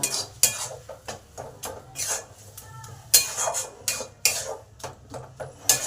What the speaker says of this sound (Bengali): এবার কপি ডাঁটাটা এই মশলার সঙ্গে ভালো করে কষে নেব